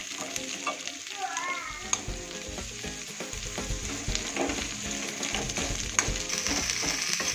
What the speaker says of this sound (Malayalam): വലിയ ഉള്ളി, വെളുത്തുള്ളി, ഇഞ്ചി, മുളക് നന്നായി വഴറ്റുക.